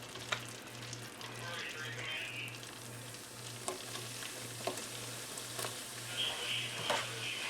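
Onion rings frying in hot oil while shrimp are being fried, a steady soft sizzle and bubbling with a few faint clinks, moderately close, no speech.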